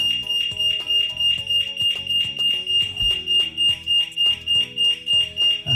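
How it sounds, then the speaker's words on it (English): A smart home alarm siren sounds with a steady high-pitched electronic tone, pulsing rhythmically in repeated bursts over a layered melodic chime pattern, loud and alone. "So when the alarm goes off,"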